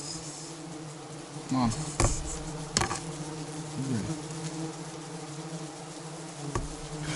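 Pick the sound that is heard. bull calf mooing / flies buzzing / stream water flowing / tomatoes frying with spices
flies buzzing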